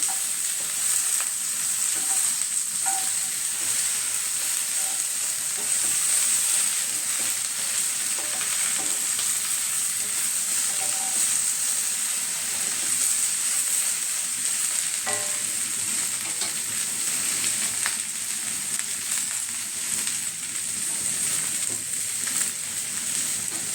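Okra masala fry stirring in a cast iron pan with little oil, a steady loud sizzle with scraping stir strokes running continuously throughout.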